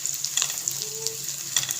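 Sliced bitter gourd (karela) fries in hot oil for a crispy karela dish, giving a steady, close sizzle and crackle with a few sharper pops and no talking.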